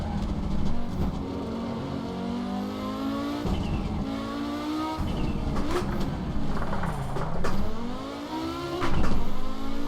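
A car driving and accelerating, its engine note rising and falling through repeated revs and shifts with a steady road rumble, heard from inside the cabin with no talk.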